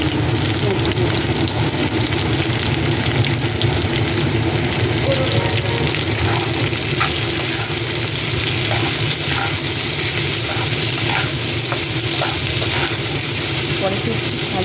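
Medium-size chopped onions fry in hot oil in a pan for a soybean dish, giving a continuous crackling sizzle like steady rain, loud and close and even throughout.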